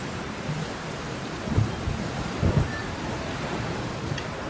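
Steady rain hisses throughout while low rumbles of thunder roll in twice, moderately close, with no voices.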